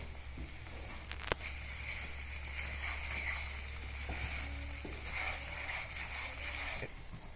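Spice mixture for a paneer curry fries in a pan before water is added, giving a soft steady sizzle with a faint low hum and a sharp clack of a utensil near the start, with no talking.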